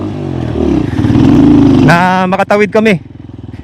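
A motorcycle crossing a river on a trail in Tarlac, its engine droning and revving steadily before a voice speaks over it near the end.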